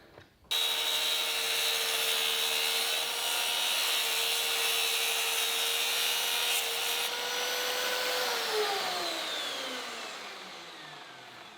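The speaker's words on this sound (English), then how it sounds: "this plunge saw has been an absolute game changer" A plunge saw cuts through a Tasmanian oak laminated hardwood panel with one loud, sustained whining buzz that starts abruptly, holds steady, then winds down gradually as the blade spins to a stop.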